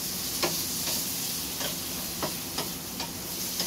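Maggi noodles cooking in a hot pan give off a continuous, fairly loud sizzle and hiss, with light scraping and stirring clicks every half second or so, heard up close with no voices.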